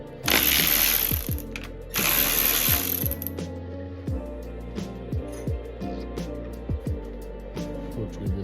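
A hand ratchet loosening intercooler bolts on a Subaru WRX clicks rapidly in two bursts of quick pawl ratcheting, then slower, evenly spaced clicks as the wrench works, close up with no talking.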